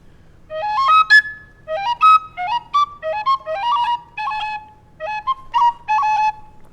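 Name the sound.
whistle playing Irish traditional tune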